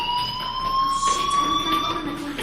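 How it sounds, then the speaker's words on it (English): A fire alarm sounds in the video game Life is Strange, a loud, steady electronic tone held continuously with faint background noise. "Hey, do you hear that fire alarm?"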